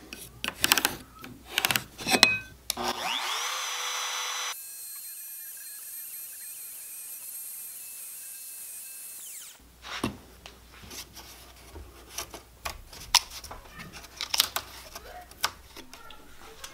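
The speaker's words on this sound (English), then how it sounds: "so I can cut all that away with the router bit." A router bit cuts away wood at a guitar neck joint, giving a steady high motor whine for several seconds. Scrapes, knocks and handling noises come before and after it.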